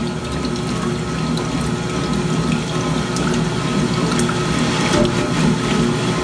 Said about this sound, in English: It seems interesting every time if I'm hearing the pump. Like, you can hear that noise